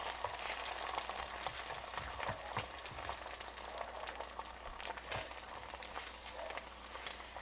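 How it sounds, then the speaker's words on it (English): Beaten egg poured into a hot pan for an omelette fizzes and crackles softly, with steady quiet sizzling and scattered small pops throughout. "then you pour the egg into the pan"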